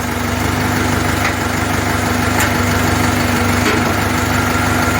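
A Jinma 4 tractor engine runs steadily while the tractor drives, giving a loud, continuous mechanical drone with a constant hum and no pauses.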